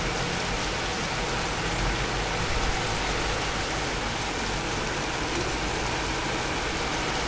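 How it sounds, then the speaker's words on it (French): Hail falls steadily outside a home on a gloomy Sunday, a dense, constant hiss and patter like heavy rain that holds at an even level throughout, with no voices. "il grêle les gars"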